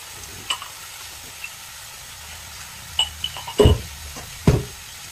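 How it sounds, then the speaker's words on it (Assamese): Chopped elephant apple (outenga) fries in a little oil, a faint soft sizzle broken by a few sharp spatula and pan knocks that grow louder toward the end. "সেইটো মই এতিয়া ইয়াত অকণমান তেলত অলপ ভজাৰ নিচিনা কৰিম দেই"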